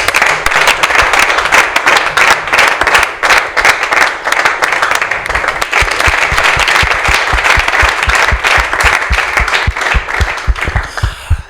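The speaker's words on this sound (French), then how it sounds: "en compagnie des applaudissements du public pour la journée d'aujourd'hui" Studio audience on a Lubumbashi arts programme with comedians gives loud, dense, sustained applause for over ten seconds. Crisp claps later settle into a more rhythmic beat before fading near the end.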